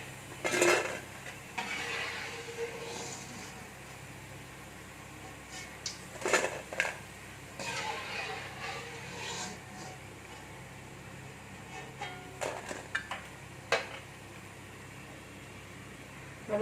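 Fried cauliflower is lifted out of a pan of hot oil, with scattered metal scraping and clinking of a utensil against the pan over a faint continuous sizzle, close and intermittent.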